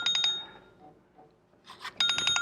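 A phone ringing, bursts of bright electronic trilling tones at the start and again near the end, separated by a quiet gap, close and clear with no talking.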